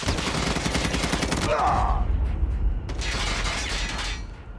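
Rapid automatic gunfire from a Call of Duty match, dense bursts of shots dominating the start, then continuing game noise and another loud burst later, with a player's voice mixed in.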